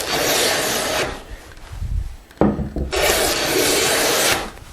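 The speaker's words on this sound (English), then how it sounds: "planing until I hear that pitch change, and then I'm taking a shaving full length." A hand plane takes long shavings off a wooden tenon, making loud, close, rasping strokes: one long pass, a brief pause with a knock, then another long, steady stroke.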